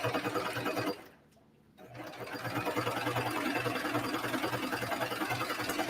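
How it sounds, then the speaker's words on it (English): A sewing machine runs in a fast, steady stitching rattle through fabric, pauses briefly, then resumes its even mechanical whir. "you can do this on your regular sewing machine as well"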